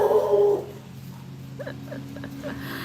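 A pet dog at home whimpers and gives a few short, faint yips after a FedEx delivery, heard at a distance over quiet room tone.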